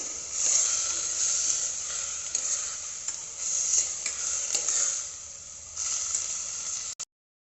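A spoon scrapes and stirs garam masala into pea pulao in a pan over a steady sizzle, the stirring coming in short bursts before it stops abruptly.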